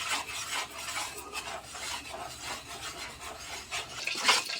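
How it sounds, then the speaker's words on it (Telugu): A spoon stirring a thick misurpak sweet mixture in an oiled pan, with continuous rhythmic scraping and rubbing strokes at close range, no voices. "ఇట్లా కలుపుతూనే ఉండాలి."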